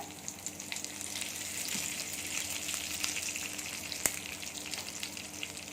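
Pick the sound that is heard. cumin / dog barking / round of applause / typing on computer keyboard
cumin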